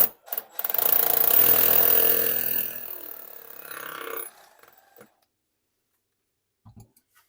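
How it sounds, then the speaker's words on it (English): Drill boring into a house wall to take moisture readings for rising damp, a few seconds of grinding drilling that fades and stops, followed by near silence and a couple of faint taps. "we'll drill into the wall and we'll see what readings we get in the wall"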